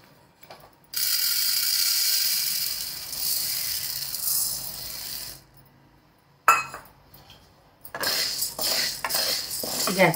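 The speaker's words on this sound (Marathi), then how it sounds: "आता हा साबुदाणा आपण 5 ते 7 मिनिटं चांगलं भाजून घ्यायचा, खरपूस असं मंद आचेवरती।" Raw sago pearls are dry-roasted and stirred in a kadhai over a low gas flame, giving a steady close scraping rattle of hard beads against metal, pausing for a moment before starting up again in uneven bursts.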